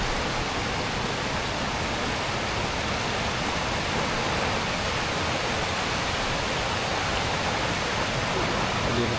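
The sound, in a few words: waterfall water rushing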